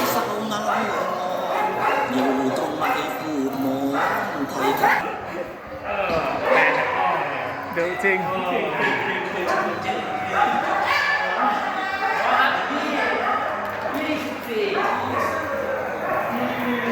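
Dogs, some of them disabled strays, bark and yip repeatedly over steady background noise at a volunteer dog grooming event at a shelter pen in Suphanburi, Thailand, with people talking throughout.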